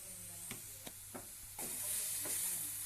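A spoon scrapes and stirs through eel frying in a pan with salt and turmeric, several distinct strokes over a continuous sizzling hiss that grows louder partway through.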